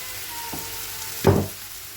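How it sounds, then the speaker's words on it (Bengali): Capsicum and potato frying in a pan, with a faint steady sizzle and a louder burst of stirring or frying hiss near the end, close and without talk. "আর এই এইদিকে ক্যাপসিকাম আলুটা ভাজা হচ্ছে"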